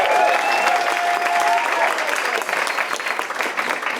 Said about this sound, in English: So a huge round of applause and for all the staff as